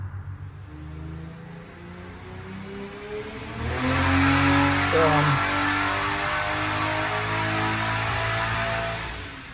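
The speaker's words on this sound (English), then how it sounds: "Sorry about the noise in the background of the boys on the dyno." Car engine revs hard on a dyno in the background of a workshop, rising to a loud, sustained roar midway through before easing off; speech tagged in the background.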